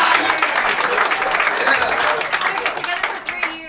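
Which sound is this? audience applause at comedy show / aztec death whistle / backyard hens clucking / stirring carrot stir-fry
audience applause at comedy show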